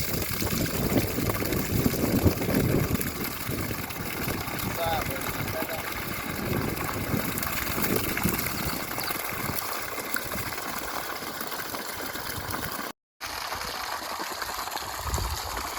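A 3HP PMSM solar water pump pushes water through a 1.5-inch delivery pipe at full pressure. The water gushes in a steady, broad rush with no breaks, and voices can be heard faintly over it.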